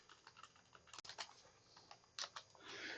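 A computer keyboard being typed on in short, uneven bursts of clicking keystrokes, close and fairly quiet, ending in a denser flurry of taps.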